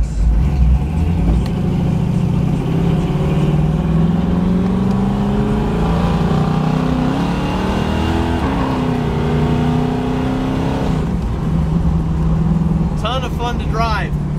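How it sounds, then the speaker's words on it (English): A 1967 Chevrolet Camaro with a 468ci V8 accelerates hard up a damp street through the gears, its loud, continuous engine roar climbing in pitch, dropping at each shift and building again. "we're gonna take off up the street here and kind of go through the gears here real quick"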